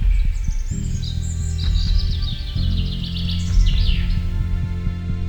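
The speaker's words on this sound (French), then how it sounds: "on s'arrête pour écouter les oiseaux" Small birds sing in bright, rapid chirping phrases over a steady low rumble of traffic or machinery outdoors, the song continuous and fairly close throughout.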